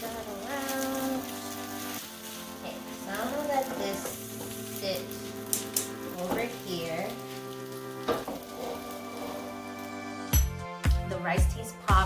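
Pineapple fried rice frying in a pan, a steady sizzle with scattered pops and stirring, while music plays throughout and sharp clatters come near the end.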